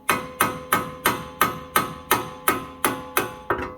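A hammer strikes metal in a steady rhythm on a car's failed wheel bearing, about ten sharp, ringing blows close up, each decaying quickly before the next.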